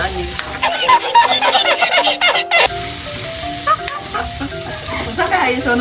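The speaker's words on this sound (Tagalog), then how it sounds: "Karon ato na ibutang ang hotdog. Yun, i-mix." Hotdog pieces sizzle and fry in a pan for a creamy spaghetti dish, stirred with scraping utensil sounds, loud and close, with a brief lull before the frying continues steadily.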